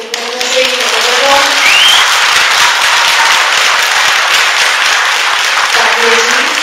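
Loud, sustained applause for kindergarten girls after their Christmas performance, many hands clapping close and steady, with brief voices and a child's cry-like squeal rising above the clapping.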